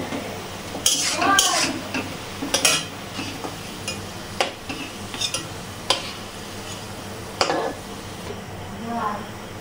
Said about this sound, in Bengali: আলুগুলো লাল লাল হয়ে গেছে, এরকম ভেজে নেব